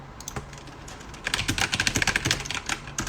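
Computer keyboard typing with the Enter key pressed: sparse clicks at first, then a fast, close burst of keystrokes.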